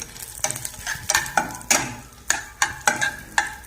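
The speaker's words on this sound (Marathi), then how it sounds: "काजू घेतले, बदाम थोडे परतून याच्यात काढून घेऊ" Cashews and almonds sautéed in ghee in a pan for prasad sheera, a soft sizzle punctuated by regular sharp spatula scrapes and clinks against the pan, close and unvoiced.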